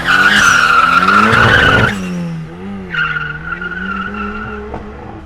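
A turbocharged rear-wheel-drive Chevrolet Chevette OHC 1.6 making 400 hp squeals its tires in a loud, sustained skid, then drops to a rougher engine note with a second, shorter squeal, close and with no talk.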